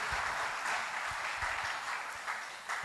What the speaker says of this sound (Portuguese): Uma bela salva de palmas ao Senhor.